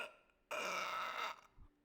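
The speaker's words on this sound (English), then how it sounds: "That was a weird burp." A single loud, drawn-out burp lasting about a second, rough and resonant, stops abruptly and gives way to a brief low grunt before silence.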